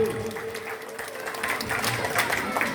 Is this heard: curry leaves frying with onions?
no